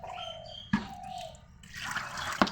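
Lentils being washed with water in a kitchen, close trickling and splashing with a couple of sharper knocks, quiet between bursts of running water.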